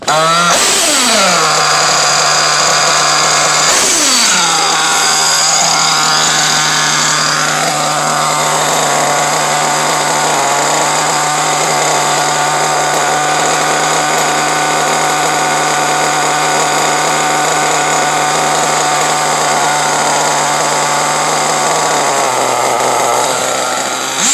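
A small engine revs up twice sharply, then settles into a loud, steady high-pitched idle that holds until it drops slightly at the end.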